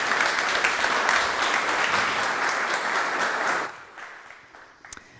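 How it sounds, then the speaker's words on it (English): A warm round of audience applause for two panel speakers at a Finnish-U.S. trade and investment event, dense and steady for several seconds before tapering off into scattered claps. "A warm round of applause."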